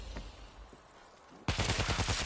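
An automated turret in the zombie shooter World War Z opens up with rapid, sustained bursts of gunfire, loud and close, after a quieter stretch of faint ambient noise and distant thumps.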